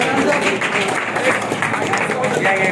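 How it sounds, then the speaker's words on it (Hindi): Clapping from a crowd at a birthday celebration for a coaching-class director in Bundi, a sustained patter of hands mixed with a speaking voice and background murmur. "एक बार इनके लिए जोरदार तालियां बजाएं।"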